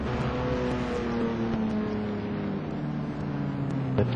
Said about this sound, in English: cars are on track for the warm-up lap